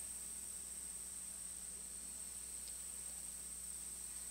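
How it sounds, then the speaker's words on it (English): A steady, unbroken hum of cicadas and crickets fills the background, with a constant high-pitched insect whine over low ambient noise, even and fairly faint throughout. "And even though it seems that to be that same hum of cicadas and crickets, insects, it isn't."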